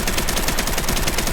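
Rapid automatic AK rifle fire with 7.62 ammunition in the VR shooting game H3VR, a dense continuous stream of loud, close shots.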